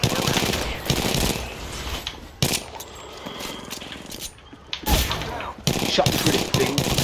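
Shotgun fire in the video game Apex Legends, several loud booming blasts spaced irregularly among other gunfire and metallic clanks, with brief quieter gaps between shots.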